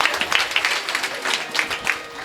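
Audience clapping at a kirtan, a brief burst of uneven claps with distinct individual hand strikes standing out over a general patter.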